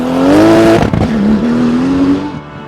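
A Porsche GT3 Cup race car fitted with a GT2 engine roars loud and close at Pikes Peak hillclimb, a high, strained engine note that dips briefly as it shifts, then climbs again before fading.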